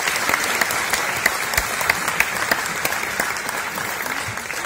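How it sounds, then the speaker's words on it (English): Festival audience applauding at a Nollywood in Hollywood event, a dense, steady wash of many hands clapping close and loud throughout, with no voices over it. "the organizers of this wonderful event deserve a thunderous applause"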